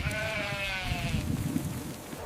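A sheep bleats once in a long, wavering cry that fades out after about a second, followed by low rustling background noise.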